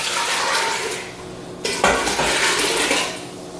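Water pours into brewed tea for kombucha with a steady splashing rush that grows fuller midway, along with clinks of a pot or vessel. The sound is close and loud, and no one speaks.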